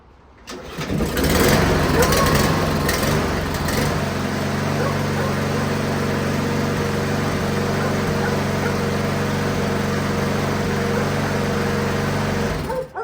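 Husqvarna push mower small engine pulled and catching after a second, then settling into a steady loud idle that runs for the rest of the moment, with a voice briefly over the start.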